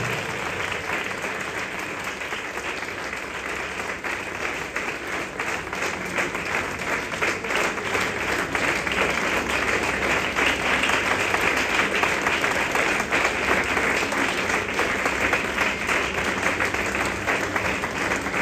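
Loud, sustained applause fills a church Sunday service as the congregation welcomes the pastor, steady dense clapping throughout with a slight swell toward the middle.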